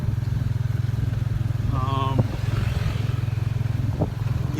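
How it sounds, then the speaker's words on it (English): A tuk-tuk carries a passenger along a road near Battambang, Cambodia, its small engine putting out a steady, rapid pulsing drone up close, with a brief honk-like tone and a few rattles mixed in. "So this is me riding in a tuk-tuk."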